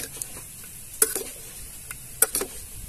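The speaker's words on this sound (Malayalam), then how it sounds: "നമ്മൾ ആ ഉള്ളി വഴറ്റുന്നുണ്ടല്ലോ" Onions sautéing in a pan for a Gobi Manchurian roll, with a soft sizzle under two clusters of scraping spatula stirs about a second apart, close by and with no talking.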